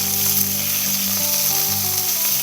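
Thin pork chop slices sizzle steadily in a hot pan for a honey garlic pork chop, a dense, continuous frying hiss close by with a low electrical hum beneath and no talking.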